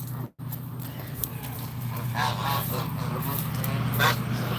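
Geese honking repeatedly, somewhat distant, over a constant low hum and background noise.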